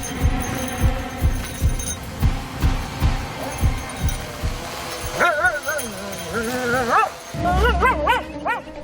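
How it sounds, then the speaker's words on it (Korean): Mir, a cadaver detection dog searching a burned fire scene, gives excited yips and high whining barks after a run of steady rhythmic thumps, close and fairly loud. "그런데 이때 갑자기 짖는 미르."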